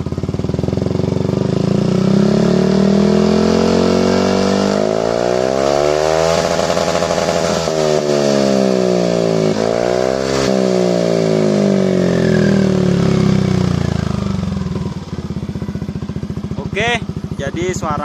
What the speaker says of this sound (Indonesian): Nanti kita bakalan coba kayak gimana suaranya ketika knalpot ini digas besar.